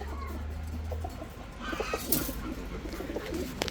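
Hyderabadi blue male pigeon and others cooing softly among a steady low hum and background noise, several gentle calls spread across the moment.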